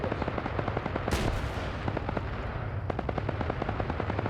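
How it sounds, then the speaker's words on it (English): Gunfire in a military video game: rapid, steady automatic bursts from a distance, with one louder blast partway through and the firing continuing without pause. "More shots going."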